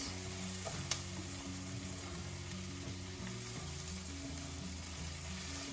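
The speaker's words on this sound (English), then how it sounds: "we've combined the mushrooms, sauteed mushrooms and butter into our rice mixture" Sauteed baby bella mushrooms and butter stirred into a pan of rice give a soft, steady sizzle with a faint mechanical hum beneath and one sharp utensil tap near the start, with no talking.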